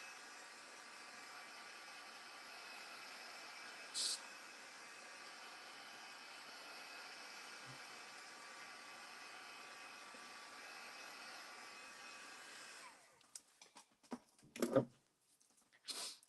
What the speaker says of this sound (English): let's first dry it to make sure that all that silver is dry.